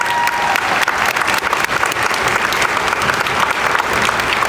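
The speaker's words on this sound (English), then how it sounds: "Give them all one more round of applause." Audience applause at a university convocation ceremony, a dense steady patter of many hands clapping throughout, close and loud with no break.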